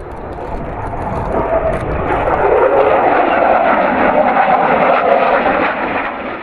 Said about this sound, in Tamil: இந்த வானத்துலேருந்து விமானங்கள் வச்சு நிறைய சாகசங்கள்லாம் பண்ணுவாங்களே அந்த ஏர் ஸ்டண்ட்